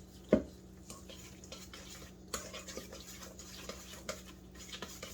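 A sweet carne asada marinade is stirred in a bowl: quiet scraping and swishing broken by a sharp clink at the start and scattered lighter taps of the utensil, with no speech.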